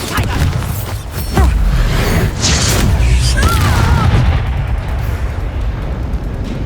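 A Bombarda blast spell from the video game Hogwarts Legacy erupts in a couple of booming bursts over busy combat sounds, with a voice briefly calling out amid the fight.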